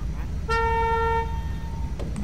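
Several car horns honk together in GTA 5 Online, one long sustained horn tone holding for about a second and a half over a murmuring background, with a brief second honk near the end.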